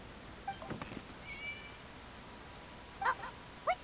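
A cat in the video game Genshin Impact meows twice, briefly and faintly, near the end, over quiet ambient game background.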